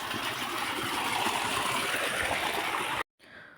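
A water stream flows below a narrow path beside farm fields, a steady, full rushing sound that runs on without a break and then cuts off abruptly near the end.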